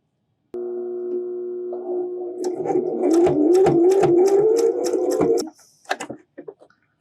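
A sewing machine stitches a fabric face mask up close, starting with a steady motor hum that builds into a rapid, loud mechanical chatter of needle strokes before stopping, followed by a few soft clicks.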